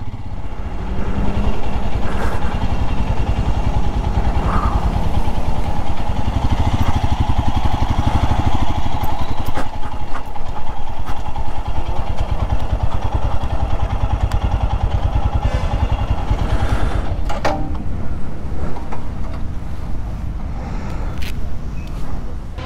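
A large group of motorcycles idling together at a ride lineup on an open ground, a constant loud rumbling drone with occasional mechanical clatter throughout.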